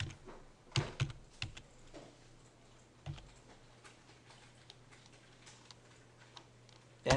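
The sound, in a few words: typing a command on a computer keyboard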